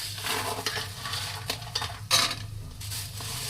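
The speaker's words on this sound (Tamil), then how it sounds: "அதுக்காக தான் நம்ம நெய்யில் போட்டு வறுக்கிறோம்" Moong dal, black pepper and urad dal are stirred as they roast in ghee in a pan, with scattered utensil scrapes and clinks over a faint sizzle, close and without talk.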